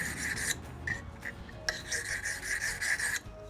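A knife blade rasps back and forth across a fine sharpening stone in steady, rhythmic strokes, a close, gritty scraping with brief pauses between passes.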